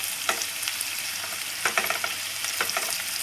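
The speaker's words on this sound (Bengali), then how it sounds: "আচ্ছা, এটা তো মোটামুটি একটু ভাজা হয়ে গেছে।" Chicken pieces frying in a pan for a dak bungalow-style curry, a steady close sizzle with soft scraping stirs at intervals and no talking.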